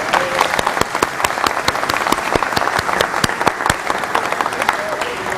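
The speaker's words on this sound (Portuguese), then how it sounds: "Aliás, vou dar salva de palmas para você." An audience gives a guest a round of applause, loud and continuous with sharp individual claps standing out from the dense crowd clapping throughout.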